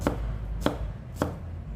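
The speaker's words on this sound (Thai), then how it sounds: "นี่หั่นขวาง" Three sharp knife chops slicing vegetables on a cutting board, evenly spaced about half a second apart, close and clear over a low steady background hum.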